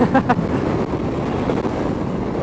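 Wind rushes past while riding a 2016 Indian Scout Sixty motorcycle, a loud, steady roar of buffeting air that is close to the microphone and continuous throughout.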